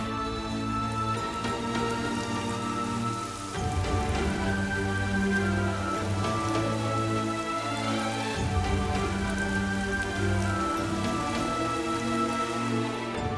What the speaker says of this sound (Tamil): மழை நின்றுச்சுன்னு நினைக்கிறேன்.